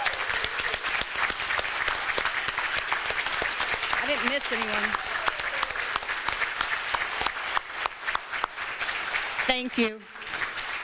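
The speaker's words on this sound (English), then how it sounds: "Let's give these students a round of applause." Audience applause for scholarship students at a Rotary Promise Scholarships event fills the whole stretch as steady, dense clapping, with a speaker briefly talking over it near the end.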